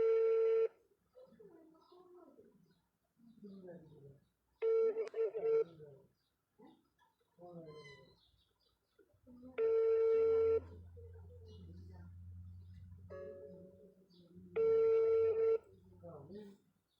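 A telephone call is placed and rings out: repeated steady ringback tone bursts with pauses between them, while a voice talks in the gaps and a low hum runs underneath near the end.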